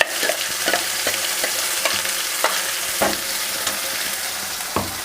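Egg curry ingredients and paste fry in a pan with a constant close sizzle, while a utensil stirs them with periodic scraping knocks.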